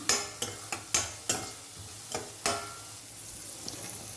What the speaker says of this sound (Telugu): ఇలా వేగిందండి, మంచి స్మెల్ వస్తుంది. అల్లం వెల్లుల్లిపాయ చాలు.